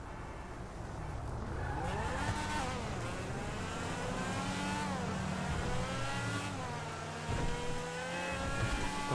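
A Lampadati Tigon sports car engine revs in GTA 5 Online, rising and falling through the gears over steady driving noise, fairly close and without talk.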